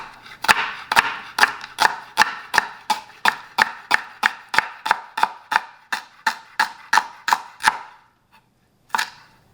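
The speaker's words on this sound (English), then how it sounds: "now I'm just going to chop these up" A knife chops vegetables on a cutting board for mushroom gravy, about twenty sharp, steady, evenly spaced knocks, close and distinct, then a short pause and one final chop.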